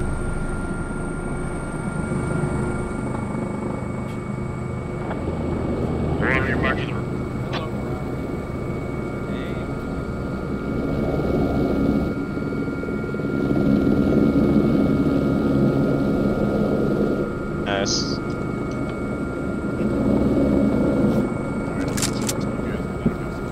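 A military helicopter in the tactical shooter game Squad drones steadily with a low rotor and engine roar throughout, loud and continuous, with brief sharp game sounds on top.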